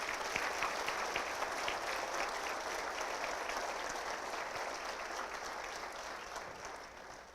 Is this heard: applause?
yes